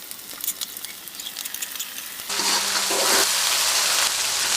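Chopped onion, a bay leaf, cardamom and spices hit hot oil and break into a loud, steady sizzle after a quieter start, with a close, hissing fry that continues to the end.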